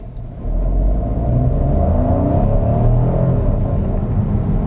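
An Opel Grandland's three-cylinder engine accelerating on the road, a loud, steady low drone and rumble that swells at the start and holds throughout, with no voices.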